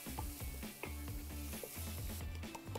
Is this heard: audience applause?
no